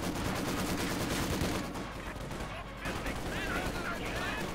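Maxim machine gun fire in a Company of Heroes 2 battle, with dense, continuous bursts of automatic fire and other gunfire layered throughout, under a commentator's voice.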